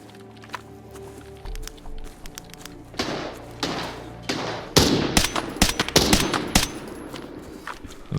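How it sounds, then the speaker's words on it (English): Gunfire in a Tarkov-style shooter: scattered single shots build into sharp, loud bursts and rapid volleys, some distant and some close, with thumps and footsteps mixed in. "I don't know if that's AI shooting at him"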